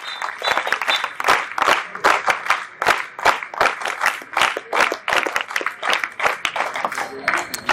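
A crowd claps steadily and loudly at a public speech event in Vinukonda, with irregular overlapping hand claps and occasional cheers filling the whole stretch, no speech over it.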